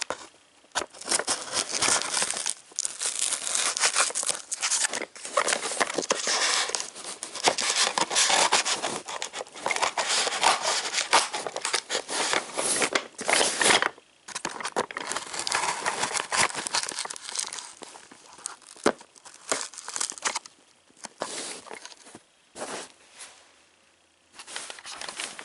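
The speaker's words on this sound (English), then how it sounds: "Now I'm gonna have to get the scissors to cut this tape here." Long stretches of loud crinkling and scraping as scissors cut packing tape and cardboard rustles, with brief pauses between bursts.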